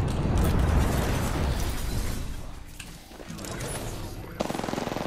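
Shotgun fire in Apex Legends, likely the Mozambique, with a dense burst of heavy blasts and rattling gunfire up front that thins toward the middle before sharper crackling shots return near the end, mixed with other in-game combat noise.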